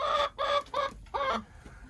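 Chickens clucking in a barn during the 2021 Oklahoma City blizzard, four close, loud squawking bursts in quick succession, then a fading tail of quieter sound.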